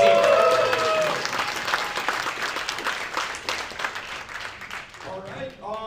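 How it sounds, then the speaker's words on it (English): An audience at a tech demo night in San Francisco applauds for the main singer, a broad wash of clapping and crowd noise that fades toward the end, with a voice breaking in just before it stops. "a round of applause for our main singer"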